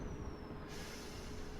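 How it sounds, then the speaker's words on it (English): Air hiss as the brakes release on a Class 455/8 electric multiple unit in a Train Simulator run, a steady broadband rush that swells partway through and holds, with a faint whine fading out early. "Brakes are very slow to release."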